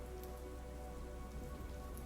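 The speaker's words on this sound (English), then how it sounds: "feel the rain stream down my face" Steady rain falling on surfaces in an even, dense patter that continues throughout, with no talk.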